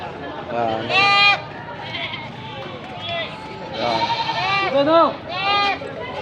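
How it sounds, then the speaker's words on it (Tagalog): Several wavering bleats from goats rise at intervals over a low background murmur, some overlapping, moderately loud and nearby, at a livestock auction market in Batangas. "Mga kambing."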